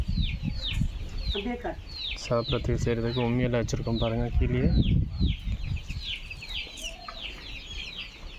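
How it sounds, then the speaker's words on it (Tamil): Chickens cluck and squawk steadily throughout, with someone speaking over the flock for much of the clip. "பாருங்கள் இத்தனை கோழி இங்கே இருக்குது"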